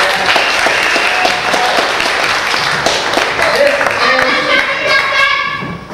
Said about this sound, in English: you'll need a huge round of applause for the lovely assistant